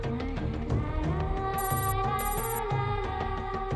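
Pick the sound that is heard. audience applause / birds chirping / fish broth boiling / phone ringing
phone ringing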